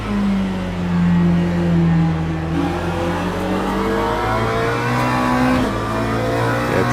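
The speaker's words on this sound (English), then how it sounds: "The only thing that sounds better than the engine note on the game is the Viking horns." Race car engine in Le Mans Ultimate droning loud and close, its pitch sweeping smoothly up and down as it revs through the gears without a break.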